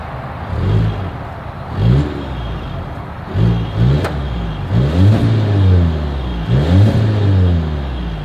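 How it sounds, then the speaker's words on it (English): A 2022 Volvo XC60 B5 SUV engine revs repeatedly in short bursts, the exhaust note climbing and dropping about five times with idle rumble in between. "As always, here is that exhaust clip."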